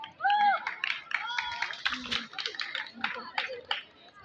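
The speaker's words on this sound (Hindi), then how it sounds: "ताली बजाओ" Onlookers clap at a kabaddi summer camp in Palghar, scattered sharp claps mixed beneath loud shouting voices near the mat.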